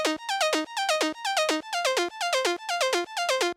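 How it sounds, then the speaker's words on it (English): A plucky synth in the second half of an electronic drop plays quick descending arpeggiated notes in a tight repeating pattern, bright and clean, loud and alone. "I added the pluck thing."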